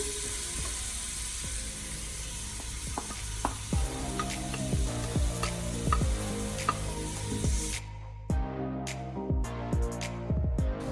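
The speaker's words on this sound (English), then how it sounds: "So once the oil is hot, we're gonna put the onions in, as well as the garlic, and we're gonna saute until they become translucent." Onions and garlic sauté in hot oil for an Italian tomato sauce, a steady close sizzle broken by scattered utensil clinks and stirring scrapes, the broadband hiss cutting off sharply near the end to leave a quieter crackle.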